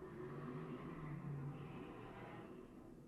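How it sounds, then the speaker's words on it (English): A car drag racing down a residential street roars faintly in the distance, a short, revving surge heard from indoors. "Someone drag racing down my street"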